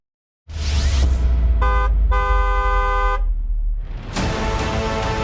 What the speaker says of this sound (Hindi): दूसरों को भी सावधान करने के लिए हॉर्न बजाएं